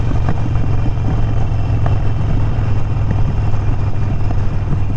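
Harley Sportster fitted with Vance & Hines Mini Grenades exhaust rumbles while riding, a loud, steady low engine drone with a throbbing pulse and wind rush, held close and continuous, no speech.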